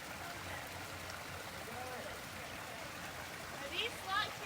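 A waterfall in a desert slot canyon produces a steady, fairly soft rushing hiss of falling water throughout, with brief voices talking faintly near the end.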